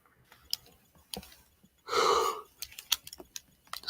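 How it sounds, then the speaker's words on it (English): A single long, breathy yawn from a man, rising and fading over about half a second between scattered soft mouth clicks and breaths, close to the microphone with no speech. "Just yawning random."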